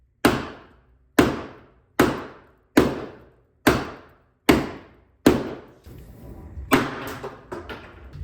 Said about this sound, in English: Let's go ahead and knock the pins out.